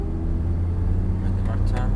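A car engine drones steadily and loudly during a driving lesson, its low rumble continuous throughout, with an instructor's voice briefly heard over it.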